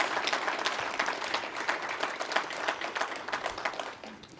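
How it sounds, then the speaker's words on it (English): Applause from a conference audience at a 2019 government technology event, a steady round of many hands clapping for about four seconds, fairly loud and dense, tapering slightly at the end with no talk over it. "Please give them a round of applause for working with us."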